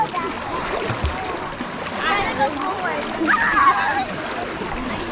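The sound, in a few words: kids splashing around in water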